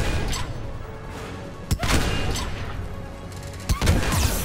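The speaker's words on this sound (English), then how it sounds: "I'm essentially using it right now as a no-scope rifle. But it fires quickly." A Saber rifle in Mass Effect 3 fires heavy single shots, a few sharp loud cracks spaced a couple of seconds apart over steady combat background noise.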